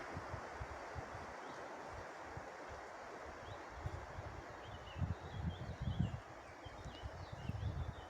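Wind sweeping through forest treetops on a blueberry-picking outing, a steady broad rushing hiss like distant sea surf, swelling in gusts with low rumbling buffets toward the end; no voices.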